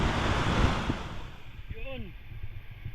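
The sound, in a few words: strong waves at Labi River, Nueva Ecija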